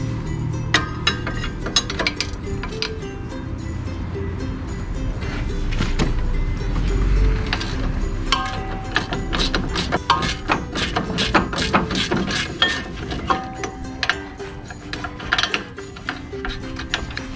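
A wrench ratchets and clanks while loosening nuts on the front suspension shock of a Daihatsu Move, with close, repeated metallic clicks and knocks throughout.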